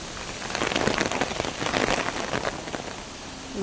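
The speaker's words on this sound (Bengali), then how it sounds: "প্রচুর বৃষ্টি হচ্ছে, বৃষ্টি মাথায় ও ভিজতেছে।" Heavy rain from Cyclone Remal patters densely on surfaces nearby in the coastal Assasuni area, a loud continuous hiss of drops that eases slightly toward the end.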